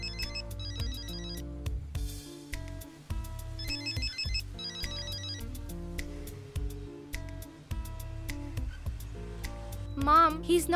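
A telephone rings unanswered with a repeating electronic melodic ringtone, a steady cycle of bright chiming phrases at moderate volume in an indoor scene.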